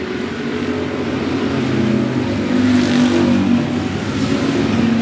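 Race cars roar around the 105 Speedway oval, a loud, continuous engine drone from several close cars that swells slightly as they go through the turn, with no talk over it.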